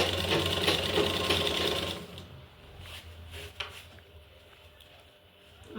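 A sewing machine stitches a fabric scrunchie with a fast, close whirring chatter for about two seconds, then stops, leaving quieter handling noises.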